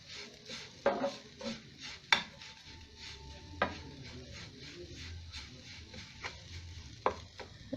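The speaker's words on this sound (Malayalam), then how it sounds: "നന്നായിട്ടൊരു ബ്രൗൺ കളർ ആവുന്നിടം വരെ ഒന്ന് ഫ്രൈ ചെയ്ത് കൊടുക്കാം" Grated coconut and sugar fry in a pan while a spatula stirs and scrapes, with scattered sharp clicks and knocks against the pan over a soft, steady sizzle. No one speaks.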